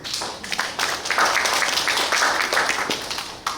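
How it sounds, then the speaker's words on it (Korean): An audience at the opening of the Namdo Film Festival in Suncheon applauds, a dense, continuous rush of clapping at moderate loudness that swells and then eases toward the end. "박수 부탁드립니다"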